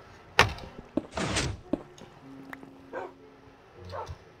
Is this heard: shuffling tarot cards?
no